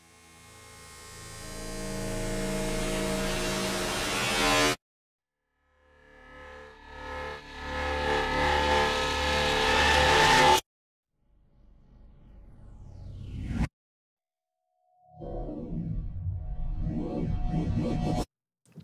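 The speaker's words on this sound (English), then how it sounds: "Now, implosions, the whole notion of these is they are backwards." Reversed implosion sound effects from a sample library play as four separate swells, each rising from quiet to loud and then cutting off abruptly, with silent gaps between them and no voices.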